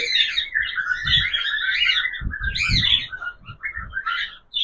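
Pet cockatiels in breeding boxes with eggs and chicks chirp and tweet continuously in a busy, overlapping chorus, close and fairly loud, with small bumps and rustles beneath.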